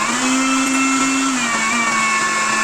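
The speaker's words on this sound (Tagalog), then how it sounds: "i-blend lang natin hanggang maging pino siya" Steady whirring blender motor grinding green chili and garlic into a fine paste, a continuous loud drone with a slight pitch drop midway, no voices.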